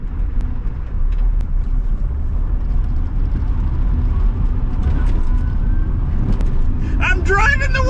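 A Wheego electric car at full throttle gives a steady, fairly loud rumble of road and motor noise throughout, with a person speaking briefly near the end.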